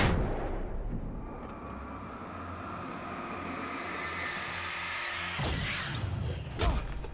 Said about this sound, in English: How's a flashbang killing them when it takes a bullet to kill them otherwise?